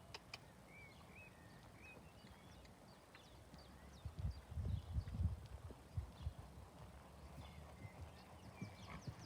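Horse hooves thud in a counter canter during a schooling session, a soft, steady run of muffled beats that swells in the middle, with faint birdsong in the background.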